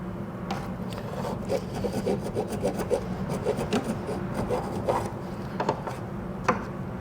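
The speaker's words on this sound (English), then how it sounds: "I'm going to take a hacksaw blade." Hacksaw blade cutting metal while a 4.5-inch stretched CVO rear end kit is fitted: a close series of rhythmic rasping back-and-forth strokes at a fairly even pace, with no voices.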